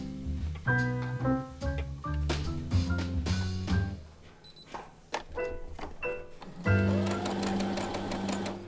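A sewing machine stitches the pointed side seam of a summer dress in quick, close whirring bursts with short pauses. Tonal background music plays underneath.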